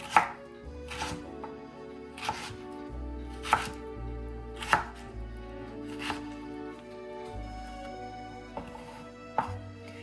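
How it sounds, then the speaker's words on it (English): Knife dicing rinsed carrots on a cutting board for bean soup, giving sharp, close chopping strikes in uneven bursts with pauses between, clear and alone. "So now I'm gonna dice up the carrots."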